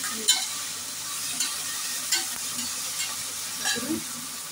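Tomatoes, onions, biryani spices and rock salt frying in a pan for vegetable pulao, a steady close sizzle punctuated by several regular stirring scrapes, with no one talking.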